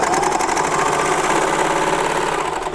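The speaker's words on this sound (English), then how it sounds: "It's a baby lock serger." A Baby Lock serger stitching at speed, a loud, steady, fast mechanical whir with a rapid rhythmic chatter that holds evenly throughout and eases off slightly at the end.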